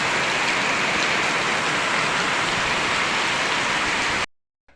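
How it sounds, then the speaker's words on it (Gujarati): Heavy rain falls on a farm in a dense, loud, unbroken roar that cuts off abruptly near the end. "જોરદાર પડે મિત્રો વરસાદ"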